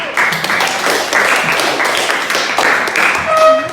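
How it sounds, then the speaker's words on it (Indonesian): Classroom students clapping for a group of classmates, a dense patter of many hands lasting a few seconds, with a voice briefly speaking near the end. "Berikan aplaus kepada kelompok 1."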